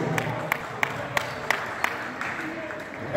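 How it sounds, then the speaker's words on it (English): Sparse, evenly spaced claps ring out at a halftime break of a Georgia versus South Carolina game, a few distinct hand claps over a murmuring crowd and some talk. "let's give both teams a round of applause for them"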